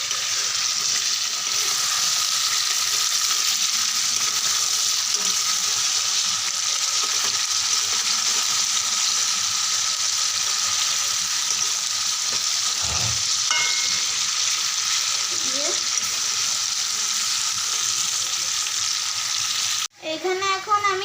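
Sugar fries in a pan with a steady, even sizzle throughout, broken by one soft knock midway and a short burst of stirring and clatter at the end.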